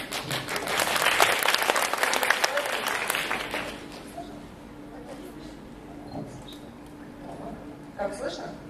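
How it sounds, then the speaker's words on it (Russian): Audience in a hall applauds loudly for about four seconds at a corporate award event, the clapping dense and close before fading to a quiet room with faint voices and stray noises. "По аплодисментам определяют."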